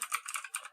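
Fast typing on a computer keyboard, a quick run of soft clicking keystrokes heard close up for under a second, with no speech.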